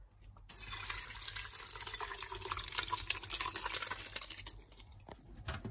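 Liquid pours and splashes steadily while curdled milk is drained for Bengali-style roshogolla sweets, a continuous close trickling rush that stops abruptly near the end.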